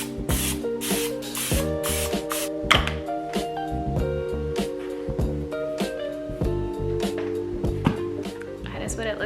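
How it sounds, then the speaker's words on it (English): Cooking spray hisses into a regular-size bread loaf pan in short, repeated bursts of varying length, heard over steady background music. "spray the bread loaf pan, just a regular size bread loaf"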